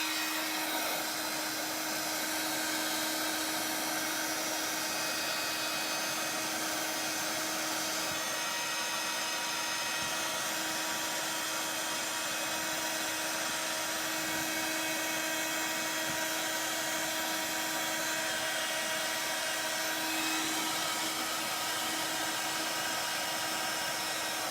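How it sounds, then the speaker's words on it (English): A heat tool blows steadily on a papercraft poinsettia place card, a constant whirring hiss with a fixed hum that runs unbroken and fairly loud for the whole stretch, with no talking. "And then let's try to use the heat tool, and let's see what we get with that result."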